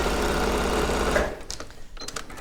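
A sewing machine stitching lines across a quilted cushion runs steadily and loudly for about a second, then stops, leaving faint handling clicks and rustles.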